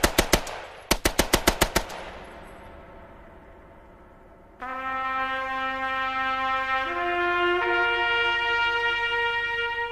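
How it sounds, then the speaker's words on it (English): Rapid bursts of machine-gun fire crack out loud and close in the opening seconds, German guns cutting down attacking French troops, then fall away to a low rumble before a sustained tonal drone takes over. "As the attackers went in, German fire cut them to pieces."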